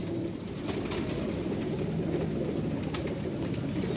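Young pigeons bought from a breeder coo in a loft as a soft, continuous low burble under a steady background hiss, with faint clicks and light rustling throughout.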